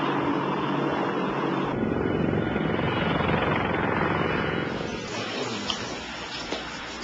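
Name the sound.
Apache attack helicopter flying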